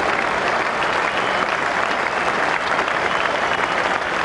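Cricket crowd cheering and applauding Graeme Hick's half century in a 1995 match against the West Indies, a loud, sustained roar of clapping and cheers holding steady throughout.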